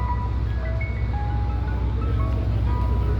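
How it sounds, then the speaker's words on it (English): A Mister Softee ice cream truck in Flatbush, Brooklyn plays its jingle, thin tinkling melody notes heard faintly over a steady, loud background rumble of traffic and engine noise, with no talking. "when you would hear this sound, you know the ice cream man was coming"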